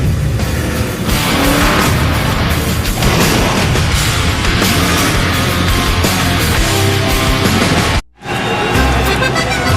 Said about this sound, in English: the crowd erupts into the roar as the cars pull out onto the racetrack